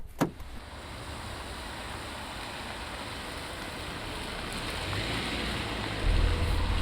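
A 2017 Mini Countryman SUV drives along with a steady broadband road and engine rush from inside, growing slightly louder toward the end, after a brief click at the start.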